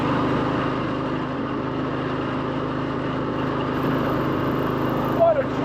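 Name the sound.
1954 Harley Davidson KH motorcycle riding in third gear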